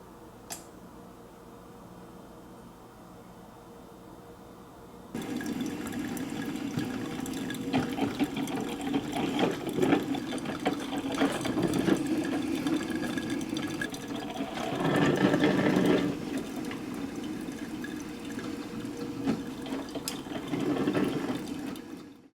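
Mr. Coffee 14-cup coffeemaker brewing a full pot, a steady gurgling, hissing water flow that starts abruptly and continues with bubbling surges, close and unaccompanied by talk.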